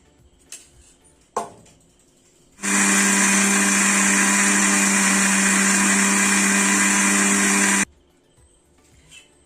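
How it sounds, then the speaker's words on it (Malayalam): An electric mixer grinder roars loudly and steadily for about five seconds while grinding raw rice, soaked for five hours, with coconut, with a few clicks and knocks before and after the run. "ഇത് നമുക്ക് ഇതിലേക്ക് ചേർത്തിട്ട് ഒന്നുകൂടി നന്നായിട്ട് അരച്ചെടുക്കാം"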